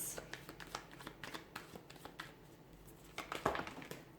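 Tarot cards are shuffled up close in a rapid run of crisp riffling flutters and slaps, quiet overall, with a brief pause in the middle.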